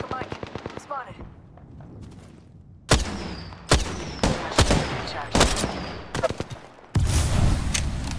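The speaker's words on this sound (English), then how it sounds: "Firing. Taking fire." Apex Legends gunfire bursts out in loud, sharp cracks and rapid automatic volleys at close range, with gaps between bursts, and a game voice speaks briefly between the shots.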